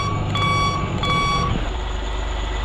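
A dump truck in Bus Simulator Indonesia sounds steady reversing beeps over a loud, constant diesel engine drone, with the beeping stopping partway through.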